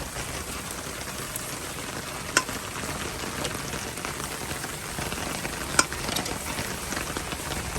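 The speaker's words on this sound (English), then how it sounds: "it is pouring rain" Heavy rain pours down outdoors around a Weber kettle grill, a dense steady hiss of drops with two sharp clicks standing out, no voices.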